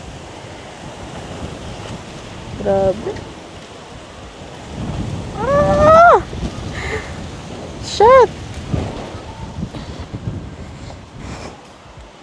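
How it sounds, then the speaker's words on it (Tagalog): Strong wind roars and buffets the microphone in heavy gusts, with a person exclaiming loudly in between. "Oh, sobrang lakas ng hangin."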